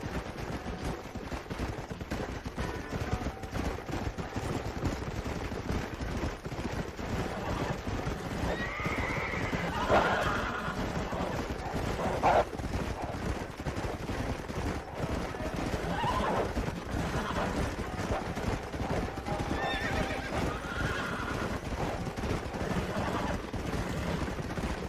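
Horses in a video game whinny and clip-clop under a dense bed of game sound, with gunfire-like bursts and occasional voices mixed through.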